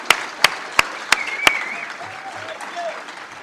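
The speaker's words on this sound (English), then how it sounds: "So I would like to recognize Mr. Smith in front of everybody with a round of applause." At a school career and technical education award ceremony, five sharp, evenly spaced claps ring out close by, then fade into a quiet room with faint murmuring.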